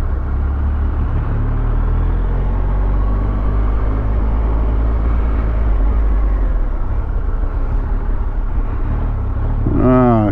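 A Triumph motorcycle on the road with a steady, loud engine rumble and wind roar that runs continuously while riding, with brief voice-like sounds near the end.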